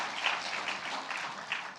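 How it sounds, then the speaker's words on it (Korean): A church congregation claps together during an afternoon worship service in a brief, steady patter of applause at moderate volume. "박수를 치려면 다 같이 쳐야지."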